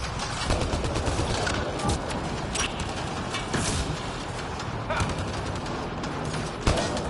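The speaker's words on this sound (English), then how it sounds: "Okay, we got a turret fighting for us." A turret in the game Mass Effect Andromeda fires in rapid, sustained bursts, a dense barrage of loud gunfire with sharper shots punctuating the clatter throughout.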